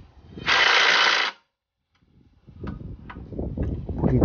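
Tightening the nut on a VW Golf drive shaft: a loud, steady burst of mechanical noise, likely a power tool, lasting under a second, then a pause and a run of ratchet-like clicks and metallic handling sounds close by.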